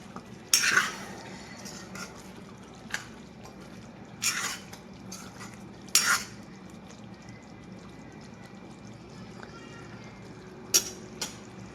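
A spoon stirring curry in a pan over a medium flame, a few sharp scraping clinks spaced several seconds apart over a faint background hiss.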